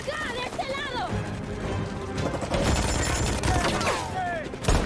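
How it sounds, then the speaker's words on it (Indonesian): Rapid bursts of gunfire in a shootout from the film Red Notice, mixed with shouting voices and movie sound effects, busy and loud throughout. "Terjadilah baku tembak."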